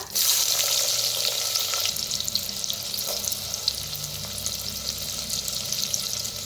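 Mustard seeds, cumin, asafoetida and onion frying in hot oil, giving a steady close hiss with a brighter burst at the start, then settling into an even sizzle with no one talking.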